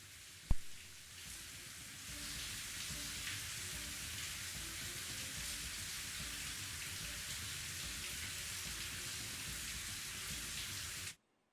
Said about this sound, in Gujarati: ગાજવીજ સાથે મુશળધાર વરસાદ વરસતા થલતેજના અનેક વિસ્તારોમાં પાણી ભરાયા.